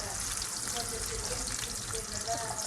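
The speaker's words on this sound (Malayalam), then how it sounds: "ഈ ഒലിവ് ഓയിൽ സവോളയൊക്കെ ഇങ്ങനെ ഫ്രൈ ആയിട്ട് വരുമ്പോൾ" Onions frying in olive oil give off a steady, close sizzle that fills the whole clip, a dense crackling hiss with no break.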